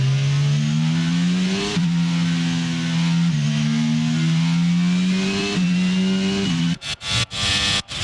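An F1 car engine from F1 22 at Paul Ricard wails loudly and rises in pitch in stepped gear changes, followed by several sharp staccato cuts near the end.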